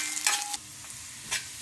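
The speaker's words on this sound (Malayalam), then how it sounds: "ഇഞ്ചി വെളുത്തുള്ളി പുളി മസാല ചെറുതീലിട്ട് നന്നായിട്ട് ഇളക്കി മൂപ്പിക്കുക" Ginger, garlic and tamarind masala fries on a low flame for spiced buttermilk, a soft, close sizzle broken by two brief stirring scrapes, with no voices.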